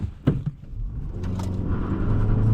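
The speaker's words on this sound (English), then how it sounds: "Come on out here, and do our first 0 to 60 test." A 2008 Nissan Altima 2.5 S sedan with a six-speed manual launches hard from a standstill on a 0-60 run, engine rumble building steadily and loudly after a few brief knocks at the start.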